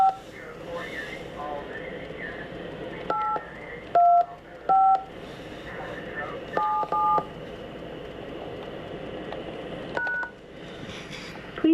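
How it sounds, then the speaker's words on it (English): Telephone keypad tones enter an access code as a series of short, distinct beeps, some single and some in quick pairs, heard under an automated voice prompt and line noise. "Please enter your access code followed by the pound or hash sign."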